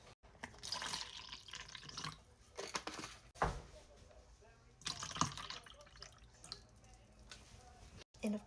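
Water is poured faintly into a Starbucks-style strawberry açaí drink to dilute it, a soft, uneven trickle and splash close by under quiet room noise.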